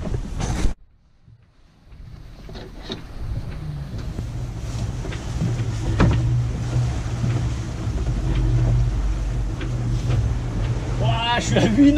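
Motorboat cruising at 8 knots on a sunny March outing, a steady low engine drone with heavy wind buffeting on the microphone, continuous and close after a brief gap at the start.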